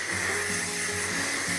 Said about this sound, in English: Now I'm just going to take some hairspray and spray it all over.